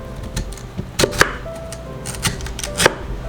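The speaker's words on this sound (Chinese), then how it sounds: "都削好皮后，就把土豆切片，把莲藕切片。" Knife slicing peeled potato and lotus root on a cutting board, a series of crisp irregular chops and taps close by, no speech.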